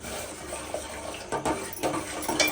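Rice flour mixed in water is poured little by little into a cooking pot, giving a close, continuous splashing trickle with a few louder gushes toward the end.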